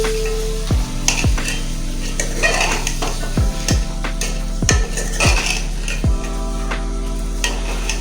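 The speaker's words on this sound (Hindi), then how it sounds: "अब हम इसे फिर से मिक्स करेंगे।" Masala bhindi being stirred in a pan, repeated spoon scrapes and clinks against the metal at irregular intervals over a continuous sizzle, close and fairly loud.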